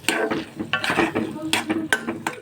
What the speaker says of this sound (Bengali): তো এবার দিয়ে ভালো করে আমি ভাজা ভাজা করে নেব